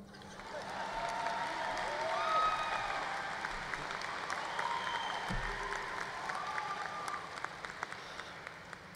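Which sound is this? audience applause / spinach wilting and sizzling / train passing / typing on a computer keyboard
audience applause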